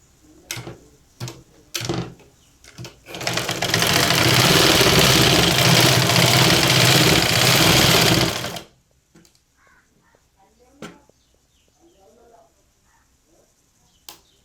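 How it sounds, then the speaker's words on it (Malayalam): A sewing machine stitching a folded hem on churidar fabric runs in one steady burst of about five seconds, close and loud, framed by clicks and handling noises of the cloth before and after. "നമുക്ക് അടിയിൽ നിന്ന് നേരെ മടക്കി സ്റ്റിച്ച് ചെയ്ത് വരാം"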